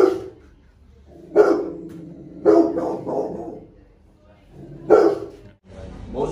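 An agitated dog about to be showered lets out several loud, excited barks and yelps in uneven bursts, close by, with a person speaking in between.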